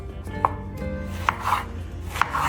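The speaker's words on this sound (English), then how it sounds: "I'm going to cut the back and the front, cut it in half" A knife cuts a peeled kaddu (pumpkin) in half. It makes three crisp, close chopping thuds against a board, spaced under a second apart.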